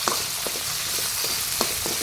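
Tomato, onion and garlic sautéing in hot oil in a pan for shrimp pinakbet, a steady close crackling sizzle with a few light pops and no talk.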